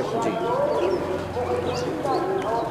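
A flock of pigeons coos with soft, overlapping rolling calls, heard close and steady beneath someone talking.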